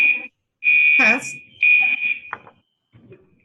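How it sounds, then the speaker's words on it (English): A fire alarm sounds in loud, steady high-pitched beeps in separate blasts, broken by a short pause, while someone speaks over and between them. "We have a fire alarm going off."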